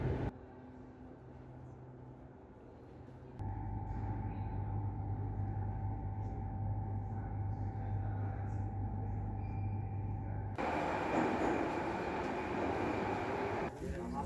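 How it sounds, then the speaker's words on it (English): A Tashkent metro train rumbles through the subway, a low, steady drone with a sustained tonal whine that grows louder midway and swells further near the end, close and continuous. "surprising things I witnessed in this city was the phenomenal metro they had"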